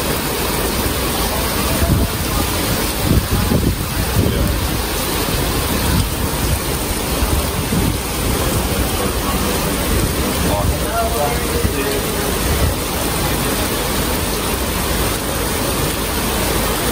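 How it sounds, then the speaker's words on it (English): Rain falling at sea, a dense continuous hiss and patter of drops all around, steady throughout, with occasional brief voices and movement noises near by. "now it's raining on us"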